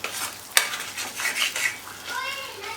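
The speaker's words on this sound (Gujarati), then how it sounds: "હવે આપણે શેકીશું." Sweet potato sheera is stirred and roasted in ghee in a pan with sugar. A spoon clatters and scrapes against the metal over a soft sizzle, with one sharp clank early on.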